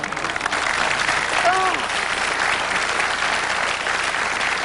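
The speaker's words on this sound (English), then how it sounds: "I'm not buying the insincere pity applause you just gave her" Steady studio audience applause on a TV game show fills the whole stretch, a broad even wash of clapping with a brief voiced sound briefly rising above it.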